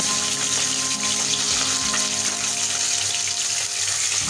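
Rui fish pieces frying in hot oil after being turned, a steady, dense sizzle with a watery, bubbling rush that stays loud and close throughout without pause.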